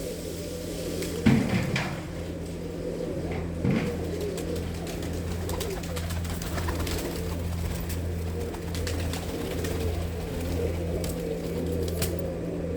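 Large adult female pigeons belonging to a Punjabi pigeon fancier softly coo in a loft, the calls low and continuous under a steady hum, with a couple of brief knocks near the start and no talk.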